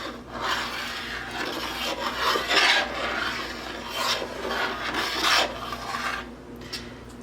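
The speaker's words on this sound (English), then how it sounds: "Just keep stirring." A spoon scrapes and rubs steadily around a pot of thick Christmas jam as it cooks, a continuous close rasping stir with rhythmic swells and no talking.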